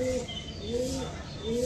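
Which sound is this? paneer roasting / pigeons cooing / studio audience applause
pigeons cooing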